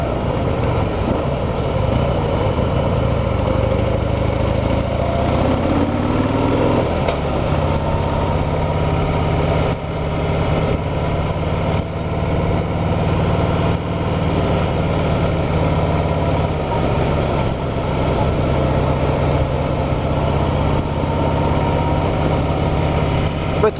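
A 2016 Harley-Davidson Heritage Softail's 103 V-twin engine runs steadily and loudly with a deep, throbbing low rumble, holding an even idle-like pace the whole time.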